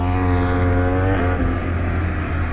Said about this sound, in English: Let's have a quick listen here to Pol Espargaro going up Horsepower Hill. Yeah, you can hear it whining there